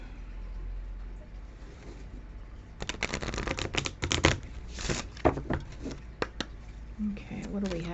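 Oracle cards being shuffled, a run of dense papery riffles and flicks in the middle stretch, close and fairly quiet over a soft room hiss, with a few scattered card snaps near the end.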